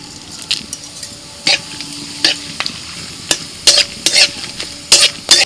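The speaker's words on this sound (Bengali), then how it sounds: "তেলের মধ্যে ফোড়নে তেজপাতা শুকনো লঙ্কা এলাচ দারচিনি লবঙ্গ অল্প একটু গোটা জিরে" Bay leaf, dried red chilli, cardamom, cinnamon, cloves and whole cumin tempering in hot oil, a low sizzle broken by sharp, irregular crackles and spatters along with stirring clinks, close and fairly loud.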